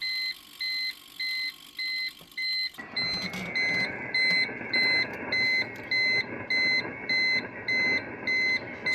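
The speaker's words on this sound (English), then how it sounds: "It's going to beep at us" An uninterruptible power supply at a ham radio station, its battery worn out, gives a steady series of evenly spaced electronic beeps; a quieter hum underneath grows louder after a few seconds while the beeping keeps its regular rhythm.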